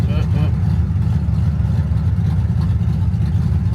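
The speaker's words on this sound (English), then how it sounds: "it's just idling like it's got a freaking cam in it" A project car engine idles with an uneven, cam-like lope, a deep pulsing rumble close by, while people talk over it.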